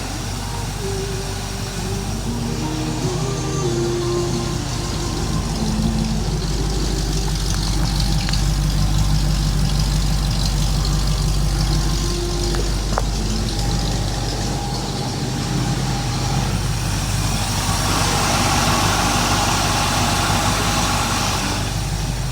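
A 1961 Corvette engine idles after an exhaust gasket repair, giving a steady, fairly quiet low rumble that holds even throughout, with occasional faint background noises.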